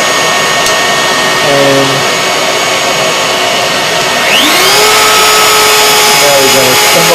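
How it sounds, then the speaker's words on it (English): A CNC machine's dust-collection vacuum runs through its hose, a loud continuous whine that rises in pitch as it spins up partway through, with a brief spoken word over the machine noise. "now we'll turn on our vacuum from the hose"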